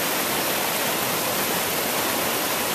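Flooded Jewell Brook in Ludlow, Vermont rushes past behind a house, a loud, unbroken roar of fast-moving floodwater with no voices.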